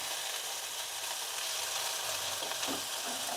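Onions sautéing with ginger garlic paste in a pan for a mutton dish, a soft continuous sizzle with faint stirring, quiet and unaccompanied by speech.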